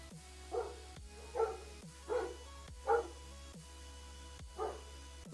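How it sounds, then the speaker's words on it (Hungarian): A dog barks about six times in short, evenly spaced bursts at moderate distance, with a low steady hum underneath and no speech. "rage-el a kutyád"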